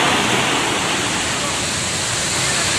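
A jungle waterfall roars in a steady, dense, loud wash of falling water that fills the whole clip without a break.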